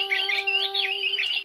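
A bird squawks steadily at close range, a harsh continuous call sounding alone with no talk over it.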